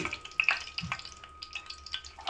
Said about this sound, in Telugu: 1 సెకండ్ వేగనిద్దాం. ఆయిల్ కూడా బాగా వేడైపోయింది.